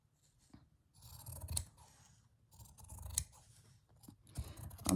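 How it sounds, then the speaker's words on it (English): Scissors snip through soft fabric in a few close, crisp bursts of cutting strokes with short pauses between them. No voices. "So I'm just going to need my scissors."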